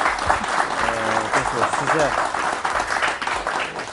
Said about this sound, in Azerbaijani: bir alqışlar səslənsin həqiqətən də